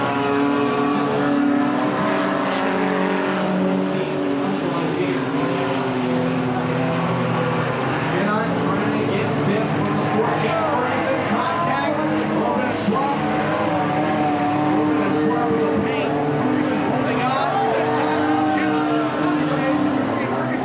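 Race cars roar around the oval at Cottage Grove Speedway, several engines droning and revving together at steady high volume, loud and continuous, while a race announcer talks over the engine noise.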